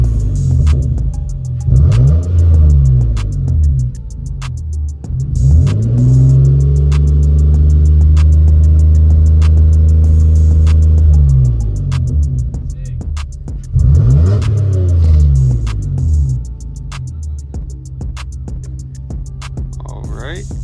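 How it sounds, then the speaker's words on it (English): A car engine revved in neutral, climbing through repeated throttle blips to a sustained high-speed roar before dropping back to idle, loud and close, with talk over parts of it. "we're going to put the car in neutral and rev it to show a different engine speed and engine condition"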